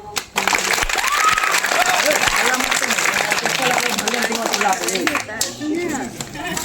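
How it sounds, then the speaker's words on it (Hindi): Audience applause at a street magic show, a broad steady patter of clapping that runs throughout while people keep talking loudly over it. "ताली मारिए।"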